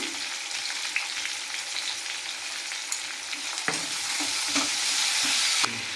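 Chopped tomato hitting hot oil tempered with chilli, bay leaf and whole cumin for a vegetable khichuri, giving a steady loud sizzle with a few scraping stirs and clicks, and the frying swells louder near the end.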